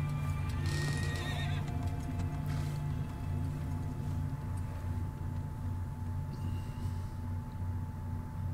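A horse in the Shadow of the Colossus PS4 remake whinnies at the start, with its hooves clip-clopping and a low steady game ambience continuing underneath.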